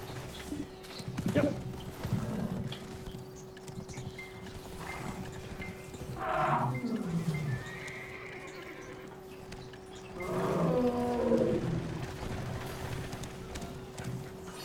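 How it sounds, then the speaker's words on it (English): Horse hooves clip-clop across an open field in a video game, with a few bursts of galloping and a whinny rising over a steady tone and background game sound, fairly close and moderately loud. "Ride horses in the open field."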